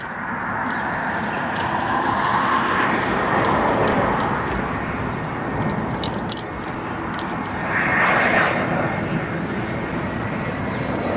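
A Lufthansa airliner arriving from Munich on runway 24R at Barcelona, its engines a broad continuous roar that swells and holds throughout, heard from a distance outdoors.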